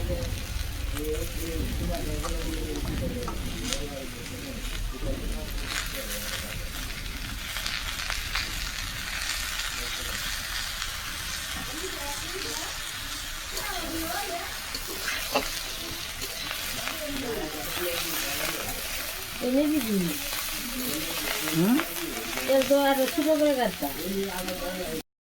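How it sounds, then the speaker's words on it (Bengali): Potatoes frying in a home kitchen pan, a steady sizzle running throughout at moderate level, with occasional stirring and a voice speaking briefly over it near the end. "আলু ভাজা হয়ে গেছে"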